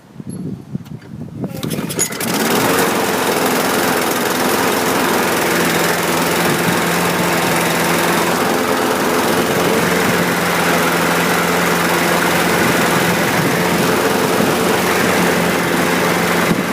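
A 2013 Craftsman self-propelled lawn mower engine starts after a pull and settles into a loud, steady running drone that holds close and unbroken.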